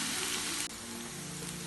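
Onions with ginger garlic paste frying in a pan for fish keema, a steady close dense sizzle with a brief dip midway, no talk.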